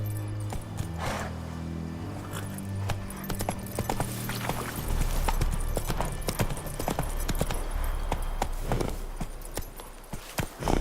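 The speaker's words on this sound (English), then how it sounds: "Run, Roach" Steady clip-clop of a horse galloping in The Witcher 3: Wild Hunt, loud and continuous, with layered game music and ambient effects beneath and a brief whinny near the end.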